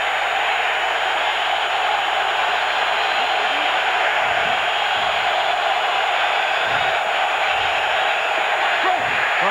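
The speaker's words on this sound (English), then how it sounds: "the crowd noise down at that end of the stadium starts right away" A crowd at a 2002 NFL game between Tampa Bay and Detroit in Detroit's stadium sends up a dense, steady roar that stays constant throughout, with faint broadcast sounds underneath.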